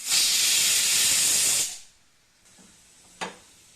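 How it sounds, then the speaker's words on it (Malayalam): A pressure cooker holding grapes for homemade wine lets out a loud, close hiss of steam for about two seconds, then falls quiet apart from a short sharp knock. "ഇനി നമുക്ക് ഒറ്റ വിസിലിന് ഓഫാക്കി കൊടുക്കാം"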